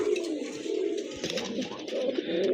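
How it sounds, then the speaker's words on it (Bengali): A pair of large Black Beauty Homa pigeons coo steadily and close by, low throaty murmurs running continuously through the moment with faint background noise. "আরেক জোড়া কবুতর দেখতে পাচ্ছেন খুবই সুন্দর অনেক বড় সাইজের এক জোড়া ব্ল্যাক বিউটি হোমা"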